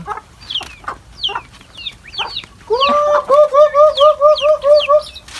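Chickens cluck in a series of short, bright calls, then a louder run of rhythmic clucks repeats steadily near the end, close by.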